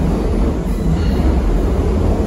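An Osaka Metro subway train departing from Shin-Osaka Station rumbles steadily and loudly nearby, a dense low roar with rattling undertones and no voices.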